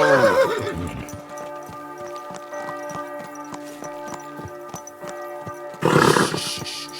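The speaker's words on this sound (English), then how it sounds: "Easy, good horse." A horse neighs loudly at the start in Kingdom Come: Deliverance II, followed by steady clip-clop hoofbeats and a second whinny near the end, with game-like musical tones underneath.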